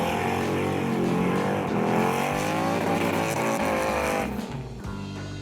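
A Nissan 350Z drift car at a D1NZ drifting round in Christchurch, with its engine screaming at high revs and its tires squealing continuously, loud and close, easing off near the end.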